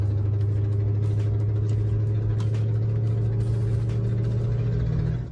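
A Porsche 924 engine with a leaking exhaust manifold idles with a steady low rumble and a slightly raspy, ticking edge, constant throughout with no talking.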